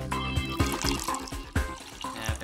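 Vodka is poured onto skin, giving a close, uneven splashing and dripping patter with a few distinct droplet hits over a couple of seconds.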